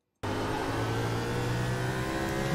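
A race car in iRacing at Martinsville bursts in after brief silence, its engine roaring loud and close under hard throttle and holding a steady, rising drone to the end.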